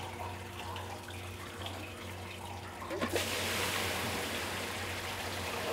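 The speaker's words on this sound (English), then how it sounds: "we're just going to keep draining this tank out" Wine draining out of a winery tank through a screen makes a steady, rushing gush of liquid that grows noticeably louder and fuller partway through, continuous and close with no speech.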